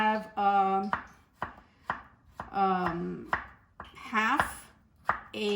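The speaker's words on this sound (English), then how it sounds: "I'm going to chop the avocado really fine." A knife finely chops half an avocado on a cutting board, producing crisp, separate taps in an uneven rhythm, interleaved with intermittent tonal, voice-like sounds.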